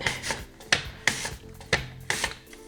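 An apple is sliced on a mandoline, each pass giving a crisp rasping scrape at a slow, regular rhythm of about five strokes, close and fairly quiet with no talk.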